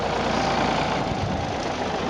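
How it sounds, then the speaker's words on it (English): Low, steady engine drone of a tractor pulling a trailer at a harakeke trial plot, continuous and fairly close, with no voices. "put them onto this tractor here coming with a trailer"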